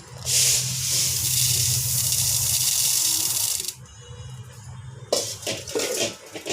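Horse gram grains pour onto roasted black rice in a pan with a steady loud rushing rattle, then stop. A shorter sprinkle of grains follows after a pause.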